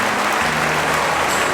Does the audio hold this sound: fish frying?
no